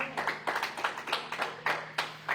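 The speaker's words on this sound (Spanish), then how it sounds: "Denle un fuerte aplauso al Señor." Congregation clapping in a church service, a fairly quiet but clear rhythmic series of unison claps, roughly a few per second, with a low steady hum beneath.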